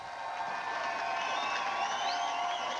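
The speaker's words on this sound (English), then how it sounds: "Warm applause from the crowd in Houston" Crowd in Houston applauding President Bush on election night 1992, a muffled, steady roar of clapping and cheering at moderate distance with whistle-like tones rising over it.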